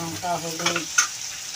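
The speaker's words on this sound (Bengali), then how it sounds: "বন্ধুরা এবার আদা রসুনের পেস্ট দিয়ে দিল ওখানে টমেটো দিয়ে দিল" Ginger garlic paste and tomato sizzling in oil in a frying pan, a steady close crackle with a few light stirring scrapes over a tonal background hum.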